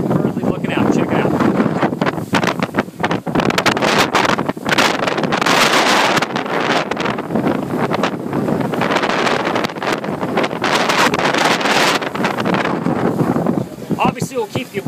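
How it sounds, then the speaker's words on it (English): Strong south wind buffeting a dive boat at sea, loud gusty roar and microphone rumble pulsing throughout, with speech mixed in under the wind. "That south wind is really picked up right now."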